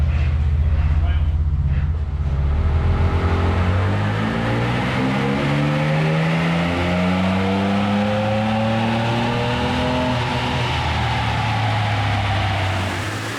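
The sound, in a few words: Ford Ranger Raptor pickup engine revving on a dyno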